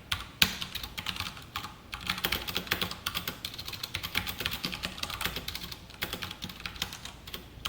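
Rapid, steady keystrokes on a computer keyboard while C code is typed, close and clear, continuing without pause and with no talk.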